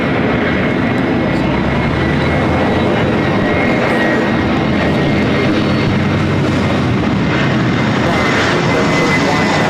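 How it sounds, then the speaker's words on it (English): Delta Airlines Airbus A321 arriving at LAX from San Francisco, its engines making a loud, steady roar close by for the whole stretch, with voices talking over it. "This is Delta Airlines 1715 coming in from San Francisco on the A321."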